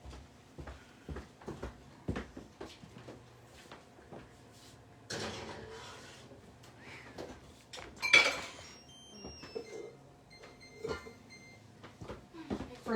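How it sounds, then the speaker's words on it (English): A brownie pan goes into the oven amid a busy stretch of kitchen clatter: scattered knocks of metal, an oven door or cupboard opening and closing, with a voice talking at times. "now I'm just going to put this in the oven and let it bake for 25 minutes"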